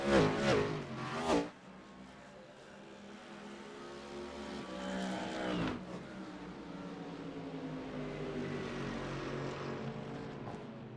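Race cars in a racing video game rush past close by with a loud rising-and-falling engine whine, then a steadier engine drone continues as more traffic passes, with a second, softer pass midway.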